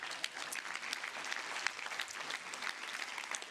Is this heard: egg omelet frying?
no